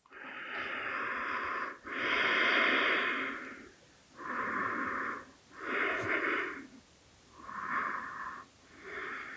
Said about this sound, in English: Breathing through the nose.